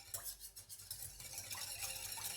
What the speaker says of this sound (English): Give it all a good whisk to combine everything.